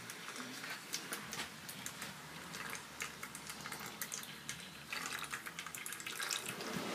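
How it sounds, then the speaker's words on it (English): Used engine oil drains from a Wheel Horse garden tractor engine in a steady trickling, splashing stream, like liquid pouring into a pan, close and continuous for the whole stretch with faint fluctuations. "Maybe I better drain the oil out first."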